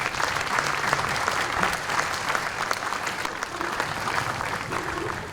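An audience at an outdoor municipal band summer concert applauds in a dense, sustained burst of clapping that stays fairly loud and even, tapering slightly toward the end.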